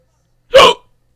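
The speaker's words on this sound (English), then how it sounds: "Sorry, I had the hiccups." A single sharp hiccup, loud and close, one short burst lasting under half a second with no talk around it.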